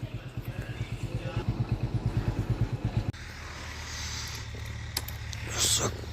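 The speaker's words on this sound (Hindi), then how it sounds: "ट्रैक्टर चलाना शुरू कर दिया है" A farm tractor works a field during wheat sowing, its engine chugging in fast, loud, rhythmic pulses close by. The sound then shifts to a quieter, steadier rumble with a brief louder swell near the end.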